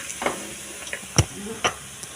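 Greens fry in oil as a spoon stirs them, giving a few distinct scraping strokes over a soft, steady sizzle up close.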